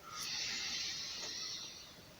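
A slow inhale during a standing exercise: a soft, steady breathy hiss that runs for about two seconds and fades slightly toward the end.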